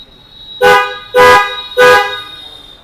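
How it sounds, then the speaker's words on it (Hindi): Three loud, sustained blasts from an aftermarket horn fitted to a 2025 Tata Safari, about half a second each, evenly spaced, with a bright, brassy tone and no talking. "इसमें हमने एक हॉर्न ऐड किया है जिसका रिस्पॉन्स मैं चेकआउट कराता हूँ आपको"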